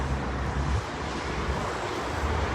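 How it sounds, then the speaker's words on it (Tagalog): Steady wind roars outdoors, a dense rushing noise with low buffeting against the microphone, continuous and loud. "Nindot kayong huyuhoy sa hangin"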